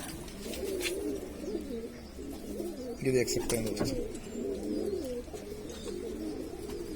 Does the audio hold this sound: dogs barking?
no